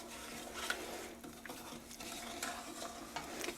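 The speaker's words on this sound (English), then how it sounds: "Mix that together." A spoon stirs butter and light brown sugar in a pan for caramel corn, soft scraping strokes with a faint sizzle, close and quiet, repeated in an uneven rhythm.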